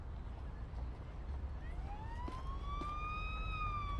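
Ambulance siren in the video game Police Simulator: Patrol Officers, a rising electronic wail that swells in over a steady wash of background noise and holds a high tone.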